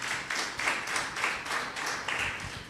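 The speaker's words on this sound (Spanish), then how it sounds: "Denle un aplauso al Señor" A church congregation at a Spanish-language service applauds, giving dense, steady clapping from many hands for a few seconds, moderately loud with no talk over it.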